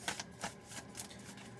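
Tarot cards being shuffled by hand, a run of quick papery riffles and soft slaps close to the listener, coming in short bursts at a quiet level with no talking.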